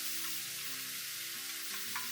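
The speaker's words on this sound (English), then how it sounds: "Use high heat. Now let's go ahead, slice this beef in there." Sliced beef hits hot peanut oil in a wok over high heat, giving a steady, close sizzle that holds evenly throughout with a low tonal hum beneath.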